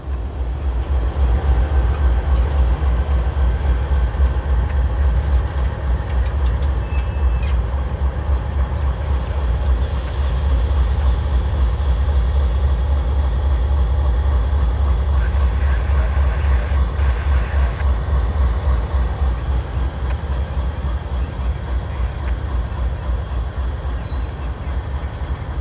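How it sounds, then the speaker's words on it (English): Freight locomotive P-61 backing slowly down to couple onto the rest of its train, a steady heavy diesel rumble with faint intermittent wheel squeal and rail clatter, close and sustained throughout. "As P-61 backs down to couple up to the remainder of its train"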